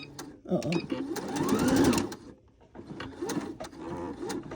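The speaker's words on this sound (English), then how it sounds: "this particular machine, the Singer Patchwork Plus, kept me from spending a lot of money" Singer Patchwork Plus sewing machine stitching, a close, rapid mechanical whir in two bursts with a short pause between, under a person talking.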